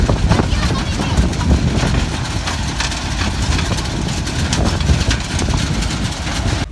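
A heavy tractor engine rumbles steadily nearby, idling with a low, vibrating drone while people talk over it.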